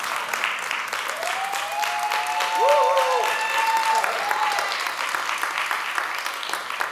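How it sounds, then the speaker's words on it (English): Applause from an audience at a talk with Juneteenth's Miss Opal Lee, steady moderate clapping throughout, with faint tonal sounds and a murmur of voices. "So give a round of applause for that"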